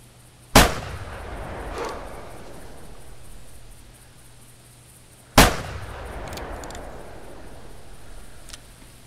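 Two sharp, loud rifle shots ring out several seconds apart at a pheasant in the hunting game The Hunter, each a hard crack followed by a rolling echo that fades across open ground.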